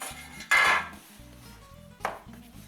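A chilled lemon pie is lifted out of a flan dish with a sharp clatter of dish and metal. A second, lighter knock follows soon after over a faint background hum.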